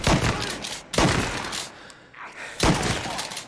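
Three loud gunshots from the video game Mafia Definitive Edition, each a sharp blast with a decaying tail, spaced about a second apart and heard without talking.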